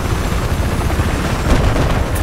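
A helicopter in the video game Battlefield 4, on the Siege of Shanghai map in Rush mode, makes a loud, steady rotor roar mixed with dense, rumbling bursts like distant gunfire.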